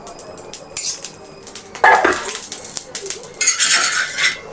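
Cooking in a home kitchen with metal utensils clinking and scraping against a pan as a little oil is added, a few louder clatters and short sizzling bursts and no talking.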